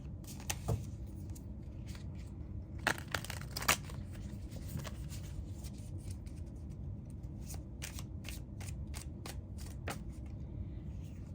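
Tarot cards are shuffled by hand in a quiet room, a soft steady riffling with scattered sharper snaps and flicks of card stock throughout.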